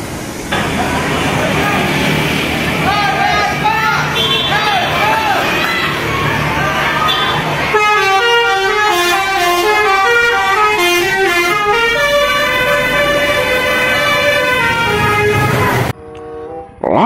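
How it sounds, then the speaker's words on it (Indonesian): A Pandawa bus passes close and loud with engine roar, then plays a long tuned musical horn sequence of repeated melodic toots before abruptly stopping. "Kali ini ada bus Pandawa Herbie teman-teman."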